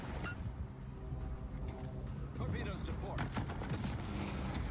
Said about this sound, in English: My AA guns are firing.